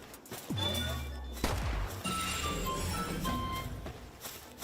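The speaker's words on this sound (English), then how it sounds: "She's laying down some covering fire." Rapid bursts of gunfire from an allied Pal laying down covering fire in the video game Palworld, crackling over game music and effects, loud and sustained across the moment.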